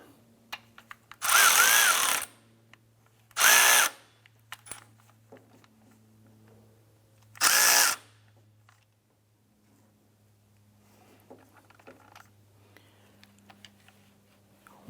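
A power tool tightens a nut on the power steering belt of a 2001-2005 Honda Civic, in three loud whirring bursts, the middle one shortest, with a low steady hum and faint clicks and handling noises between them.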